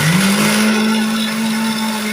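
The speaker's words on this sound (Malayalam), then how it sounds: "ഇനി ഇത് നമ്മൾ ജാറിലിട്ട് നന്നായിട്ട് മിക്സ് ചെയ്തിട്ട് എടുക്കാൻ പോവാണ്." A mixer jar blends juice with green chilli, a loud steady motor whine that rises in pitch at the start and then holds constant, continuous and close.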